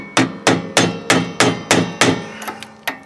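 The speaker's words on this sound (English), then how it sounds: "I'm going to take a stiff putty knife here," A stiff putty knife is tapped around the metal grease cap of a trailer axle hub during an RV electric brake replacement, giving about eight sharp, ringing metallic strikes in a steady rhythm, close and loud, with no talking.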